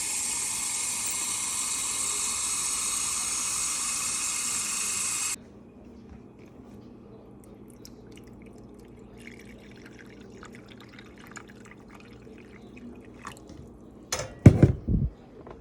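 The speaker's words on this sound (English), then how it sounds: "I'm taking water. I'm putting water in my measuring cup." A hissing stream of water runs into a measuring cup for a bottle sterilizer machine for about five seconds and then stops abruptly, followed by quiet room noise and a few sharp knocks near the end.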